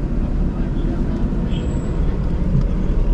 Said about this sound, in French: J'ai passé la M2. Putain, le bruit qu'elle fait.